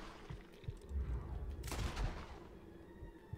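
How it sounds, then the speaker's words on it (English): Gunshot in Red Dead Redemption 2, a deep booming report with a heavy low-end rumble that rolls on through the outdoor game scene. "I shot him in his head"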